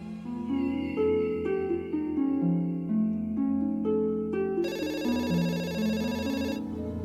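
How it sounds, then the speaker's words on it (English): A business telephone rings in a home office, a steady electronic ringtone pattern of repeating tones playing alone and fairly loud, with a brighter chiming burst midway. "Donna's business phone started to ring straight away"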